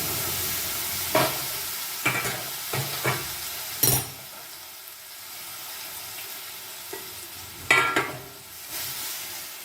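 Shrimp and bitter jute leaves frying in a pan, a soft steady sizzle broken by several sharp scraping stirs, close and fairly quiet.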